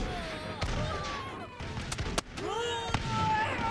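Musket volleys in the battle game TABS: a few sharp cracking shots and bursts ring out over a busy, noisy battlefield mix, with shouting voices mixed in.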